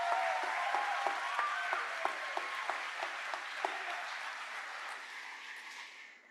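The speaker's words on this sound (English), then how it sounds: "Please recognize your family by a round of applause" Audience at a 2024 high school graduation ceremony gives a round of applause for the graduates' families, steady broad clapping with a few sharper individual claps near the start, fading toward the end.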